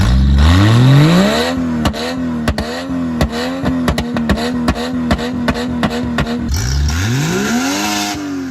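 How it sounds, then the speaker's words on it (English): A Chevy SUV engine revs hard and close, its pitch sweeping up and settling into a steady drone broken by a rapid run of sharp throttle blips. At the end it climbs again into one long, loud rev. "It looks like a regular soccer mom car, but you have to hear this car."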